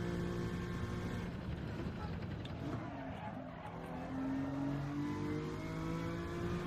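A Honda NSX in Gran Turismo 7 drones with a steady, sustained engine note that shifts in pitch as it revs, with hints of tire squeal and no voices over it.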